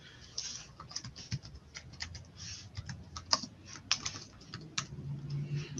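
Rapid, irregular keystrokes on a computer keyboard, moderately close, with sharper isolated clicks and a low background hum; no speech.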